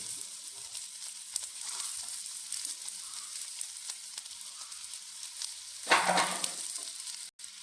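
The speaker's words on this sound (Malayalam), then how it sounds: "എണ്ണ ഒഴിച്ച് ചൂടാവുന്നുണ്ട് ഇനി നമുക്ക് വേണ്ടത് വെളുത്തുള്ളി ഇഞ്ചി പച്ചമുളക്" Garlic, ginger and green chilli frying in hot oil in a kadai give a low, crackling sizzle, swelling into a louder burst of spitting near the end as more goes in.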